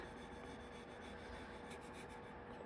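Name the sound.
popsicle stick rubbed across a birdhouse kit surface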